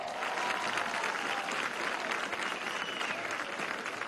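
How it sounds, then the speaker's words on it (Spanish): Steady crowd applause fills a Venezuelan women's march rally against violence in Chacao, a dense, sustained clapping that holds at an even level throughout with no speech over it. "Un aplauso, Caperucita Roja."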